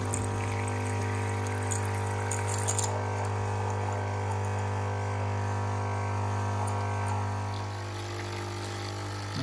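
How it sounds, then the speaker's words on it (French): A Jura ENA coffee machine pumps water through to rinse its filter during a descaling clean, a steady loud mechanical hum with rushing, trickling water that eases slightly near the end. "Donc pendant ce temps-là, la machine est en train de rincer le filtre"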